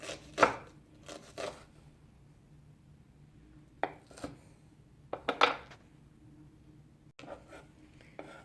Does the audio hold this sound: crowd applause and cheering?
no